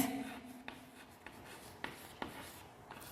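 A pen writes accounting figures by hand on paper, giving soft scratchy strokes with a few sharper taps, close and quiet, with no talking.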